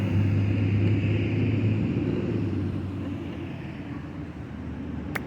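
City traffic in Boston, a steady low rumble of cars passing nearby that fades slightly over a few seconds, with no voices.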